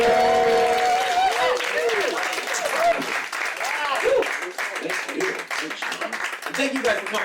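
Comedy club crowd applauding and cheering for a stand-up comic at a Soup of the Day show; a dense, lively wash of clapping with whoops and a host's voice talking over it, thinning out toward the end.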